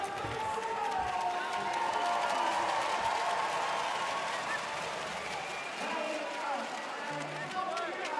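Basketball crowd at Claudelands Arena during an NBL game between the New Zealand Breakers and Sydney Kings, a steady roar of cheering and clapping filling the whole stretch at a dense, sustained level.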